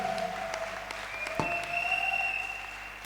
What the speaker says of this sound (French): Acclame Jésus bien-aimé.